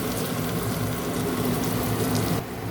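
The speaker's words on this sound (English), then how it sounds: "Wait till the onions turns brown. We have to fry it well." Onions frying in a pan for a Bengali parshe fish curry with mustard seeds give a steady, close, even hiss and crackle that carries on unbroken, easing off slightly near the end.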